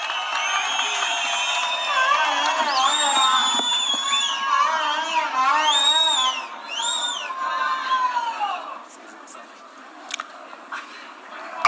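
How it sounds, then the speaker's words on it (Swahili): A crowd at a political gathering greets Senator Sifuna with whistling, ululating cheers and shouts that rise and fall in waves before thinning out. "Hebu tumkaribishe kwa makofi Mheshimiwa Sifuna."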